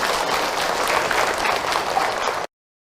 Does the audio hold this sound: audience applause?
yes